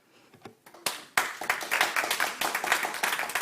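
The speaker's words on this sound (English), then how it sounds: "Anya Dennison, please hold back the clapping." Audience members clap at a school board meeting after a student's public comment, a burst of many hands that starts sparse and swells into steady, close applause with no talking.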